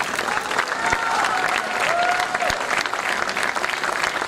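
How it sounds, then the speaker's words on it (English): Students in a school audience clap steadily in a dense, continuous round of applause, filling the room at close range with a faint crowd murmur. "especially those who are clapping"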